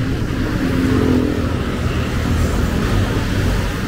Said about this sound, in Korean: 오토바이 부대가 지나갑니다.